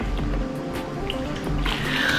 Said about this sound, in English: You're going to dip it entirely into the water.